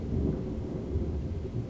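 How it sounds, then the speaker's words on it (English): A thunderstorm rumbles with low, steady rolling thunder and rain, a dense continuous sound at moderate volume with no voices. "okay, now it's raining"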